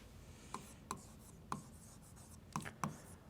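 Writing on a board during a Class 10 coordinate geometry lesson: five quiet, separate scratchy strokes at irregular intervals, with no talking.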